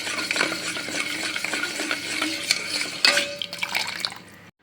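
Jaggery syrup boiling in a pan while a spoon stirs it for pasi paruppu payasam, giving close bubbling and sizzling with scraping, clinking stirring strokes that stop abruptly at the end.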